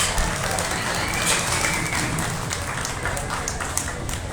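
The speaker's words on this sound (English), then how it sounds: "Please put your hands together and give her a nice round of applause." An audience at a county fair swine show applauds a Hampshire gilt, producing a dense, continuous wash of clapping that holds steady at moderate loudness through the whole stretch.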